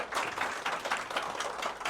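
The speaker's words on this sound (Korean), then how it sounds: "한번 박수를 크게 한번 치고 할까요?" Attendees at a Korean business seminar clap in a brief, energetic burst, close and continuous with a loose rhythmic pattern, no talking over it.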